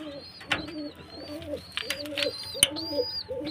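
Pigeons coo repeatedly in a rhythmic, throaty pattern close by, with a few sharp knocks and faint background noise around them.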